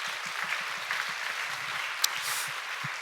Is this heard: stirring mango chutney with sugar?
no